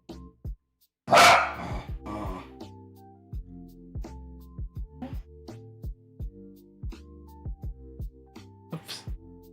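A dog barks in one loud burst near the start, then lets out softer, irregular yips and whines spread across the rest, close by and alone without talk.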